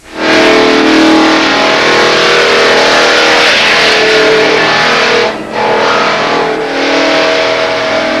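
A drum floor sander roars steadily across a wood floor, loud and close, with a droning, gritty whine that dips briefly near the end before resuming.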